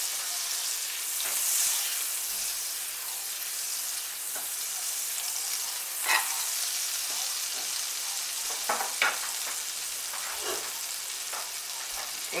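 Olive oil and a couple of chunks of butter sizzle in a hot pan, a bright continuous frying hiss with scattered crackles and pops, close and steady without voices.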